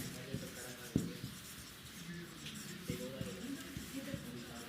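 A pen scratches steadily across paper while writing out the Pythagorean theorem for a maths problem, with soft irregular strokes and taps under a quiet voice speaking close by.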